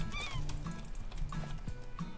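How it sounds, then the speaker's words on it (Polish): Seagull in the survival game Raft gives several short, honking calls spaced through the moment, set against a low steady ocean and engine-like drone. "Mewa!"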